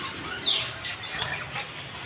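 Caged finches, Bengalese finches, budgerigars and cockatiels at a bird market: several short, high chirps and tweets scattered over a soft background murmur, some near and some farther off, fairly faint.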